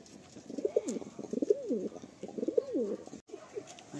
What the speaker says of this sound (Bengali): এই হলো সেট পেয়ার